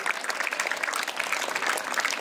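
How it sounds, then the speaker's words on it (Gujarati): Audience applause welcomes a guest from California at a school tribute program for martyrs. The clapping is dense and steady, moderately loud, and carries on evenly through the whole stretch. "જોરદાર તાળીઓથી વધાવીએ."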